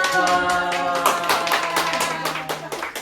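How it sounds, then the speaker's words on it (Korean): A church congregation at a Sunday service claps for a young member's birthday, a run of distinct, fairly even hand claps close by over a steady low sustained tone. "박수!"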